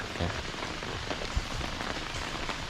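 Rain falling on a hiking field tent, a dense, steady patter of drops on fabric, close and continuous with an occasional sharper tap.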